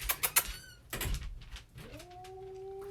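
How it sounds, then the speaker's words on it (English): A house cat having a fit, with sharp close scuffles and thumps followed by a drawn-out yowling caterwaul, loud and near. "My cat is having a fit."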